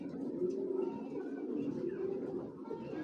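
Racing homer pigeons kept for sale, soft continuous cooing close by, a low murmuring throb that runs steadily without pause.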